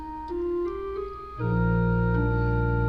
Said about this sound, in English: Let me play through the organ part for you, just so you hear how that would sound.